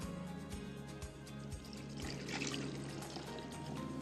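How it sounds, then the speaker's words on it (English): Water poured onto coffee grounds in a Toddy cold brewer, a steady close trickle and splash that runs for several seconds with no talking. "So we're going to start with about 1/4 of our water"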